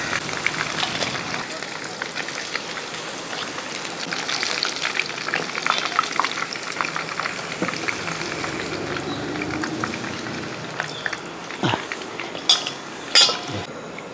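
Chicken pieces fry in hot oil with a steady hiss and sizzle, joined by scattered clinks and scrapes of a utensil against the pan, plus a few sharp knocks near the end; speech runs quietly under the cooking.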